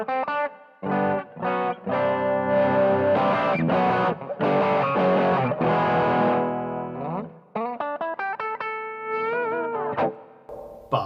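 Electric guitar played through an Ammoon PockAmp headphone amp with built-in noise gate and compression, loud sustained chords and picked notes that cut off abruptly into silence between phrases, with a brief quieter passage near the end.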